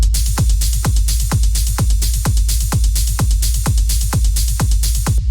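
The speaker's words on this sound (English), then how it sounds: "Where like if we play this with the kick," A layered techno hi-hat running over a thumping kick drum, loud and steady, with evenly spaced low thuds under a continuous bright, hissing top in a driving four-on-the-floor rhythm.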